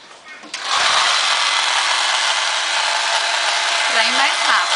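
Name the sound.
heat gun drying paint on a wooden frame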